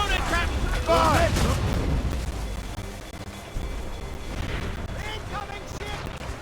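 Ship cannons boom in Assassin's Creed Rogue naval combat, a dense run of heavy blasts and rumbling under shouted crew voices, loud and continuous with a brief lull midway.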